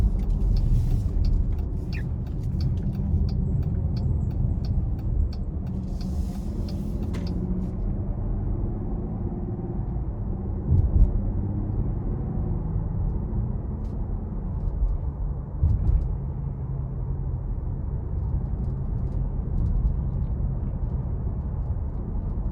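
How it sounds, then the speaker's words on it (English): A 2021 Jeep Grand Cherokee L Limited on a road test drive, heard from inside as a steady low engine and road rumble with a few faint clicks early on and no talking. "take this Grand Cherokee L out on the road for a quick test drive"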